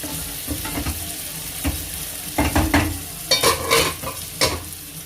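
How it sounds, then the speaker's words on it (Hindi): Onions for a tadka sizzle in a hot pan, with bursts of crackling and frying noise as a spoon stirs and scrapes close by. "और उधर प्याज का तड़का हो रहा है"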